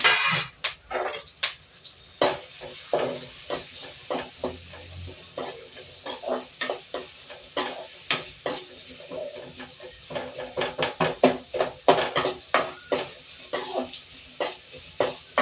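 Onions fry in a pan under a quick spatula, making rhythmic scraping strokes over a soft sizzle that speed up toward the end, with an occasional cough nearby.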